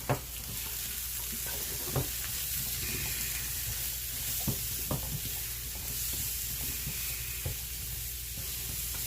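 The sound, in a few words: zucchini cooking in a pan until wilted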